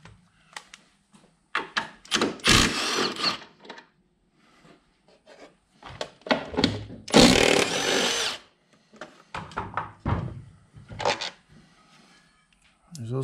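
Power tool removing case bolts on a 2011 Yamaha Apex snowmobile, several short whirring and rattling bursts of varying length separated by pauses, close and fairly loud.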